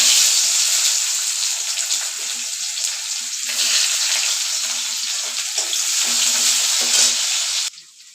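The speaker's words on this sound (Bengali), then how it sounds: "আলু ভাজা তেলের নিতে আমি পেঁয়াজ দিয়ে দিচ্ছি।" Sliced onions sizzle loudly in oil left over from frying potatoes, a steady close-up crackle with occasional stirring, cutting off abruptly near the end.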